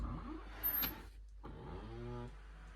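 A door closer rubs and squeaks as the door swings shut, giving a short mechanical scrape followed by a rising, tonal grinding squeal near the end, close and fairly quiet with no talking.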